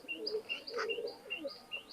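A pair of Teddy 128 pigeons sitting on eggs, giving soft repeated chirps and low coos at moderate distance, with no voices over them.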